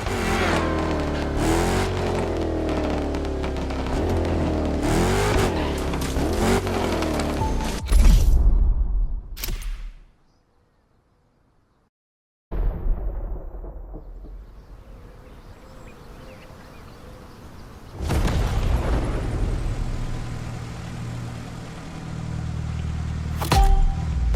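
Mitsubishi Evo engine in The Crew Motorfest on PS5, loud and close, revving and accelerating for several seconds, cutting to near silence, then returning at a low idle-like drone before climbing again.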